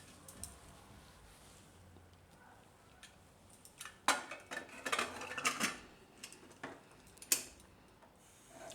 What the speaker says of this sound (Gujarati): હવે આને આપણે કુકરનું ઢાંકણ બંધ કરી દઈશું.